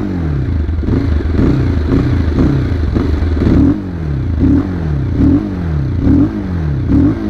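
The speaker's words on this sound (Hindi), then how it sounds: "नाउ गाइस इस बाइक का एग्जॉस्ट नोट सुनते हैं।" A Bajaj Pulsar 220F motorcycle with a fuel-injected BS6 engine revs repeatedly nearby, its exhaust rising and falling in a rhythmic series of loud blips alone without talk.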